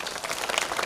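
A crowd at a devotional gathering during Adhik Maas in Pimpri Chinchwad claps for a swami in steady, dense applause that fills the whole moment without a break.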